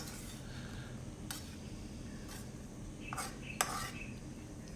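Crispy tofu cubes stirred into tuna sisig, with soft scraping and a few light clinks of a utensil against the pan or bowl over a steady low background hum.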